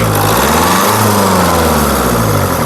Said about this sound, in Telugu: ఇంజిన్ యొక్క నాయిస్ కూడా సైలెంట్గా అయితే ఉందండి